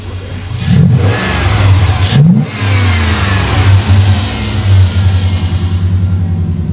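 Dodge Dakota pickup truck engine idling with a steady low exhaust rumble, broken by two short throttle blips that rev up and settle back, loud and close with no talking.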